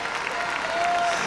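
A standing audience at a carnival queen election gala in Santa Cruz de Tenerife applauds, a dense, even wash of clapping heard at a distance beneath a presenter's voice.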